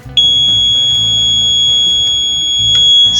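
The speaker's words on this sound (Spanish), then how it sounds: "se activa la sirena." A loud, piercing electronic alarm tone starts abruptly and sounds continuously, close by, with faint background clatter underneath.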